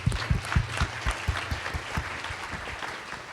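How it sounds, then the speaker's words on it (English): Audience at a California offshore wind policy panel applauding, a dense, continuous wash of many hands with soft thumps, steady throughout at moderate loudness. "So I just want to give them a round of applause real quick"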